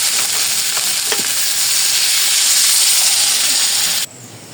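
Curry sautéing in a hot pan with green chilies and ground coriander, giving a loud, steady sizzle and hiss that runs unbroken for about four seconds, then drops off abruptly.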